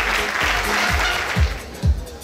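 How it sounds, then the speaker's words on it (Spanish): Audience applause rolls through the hall at an Argentine men's bodybuilding competition, a continuous wash of clapping with a few low thumps near the end. "Fuerte el aplauso para estos monstruos"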